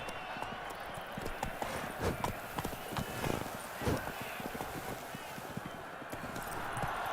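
Roach, a horse in The Witcher 3: Blood and Wine, gallops with quick, rhythmic clip-clopping hooves, fairly faint and steady over a low ambient bed, while a voice speaks briefly over the hoofbeats.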